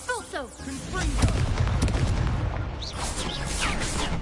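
Confringo blasting spell cast during a duel in Hogwarts Legacy, a dense run of loud booming bursts and crackling blasts layered with spell whooshes and voices talking throughout.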